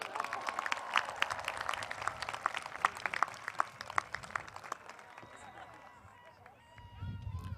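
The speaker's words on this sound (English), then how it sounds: "let's have a big round of applause for the audience" An audience at a college graduation ceremony claps in a dense, sustained round of applause that tapers off toward the end.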